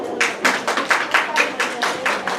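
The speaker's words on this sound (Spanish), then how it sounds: "Lo recibimos con un fuerte voto de aplauso." A small audience applauding to welcome a speaker at a business administration course, with sparse, fairly regular claps repeating steadily for a couple of seconds.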